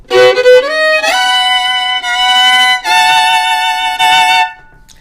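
Bluesy guitar lick with an added tension note, several plucked and bent notes ringing out in phrases and finishing on a sustained tone, played alone and fairly loud.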